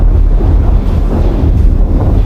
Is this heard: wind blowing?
yes